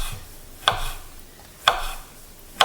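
A knife chops lemon on a cutting board, three sharp, close knocks spaced about a second apart, each trailing a brief scrape, with nothing else in between.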